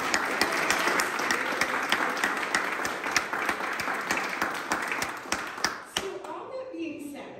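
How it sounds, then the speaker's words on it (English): A dessert reception audience gives a round of applause, dense clapping at moderate distance that runs for several seconds before thinning into scattered claps and faint voices. "we're also going to give him a round of applause"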